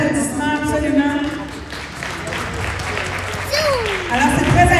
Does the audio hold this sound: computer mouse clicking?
no